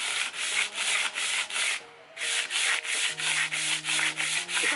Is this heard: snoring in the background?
no